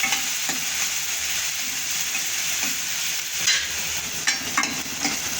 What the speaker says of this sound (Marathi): दोन कांदे बारीक चॉप करून घेतलेले आहे ते टाकून द्यायचे कांदा आपल्याला काही जास्त परतायचा नाही